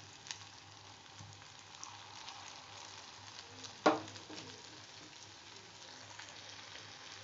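Batter for honey sweets frying in a little hot oil, a faint, even sizzle with one brief louder splash or clink partway through.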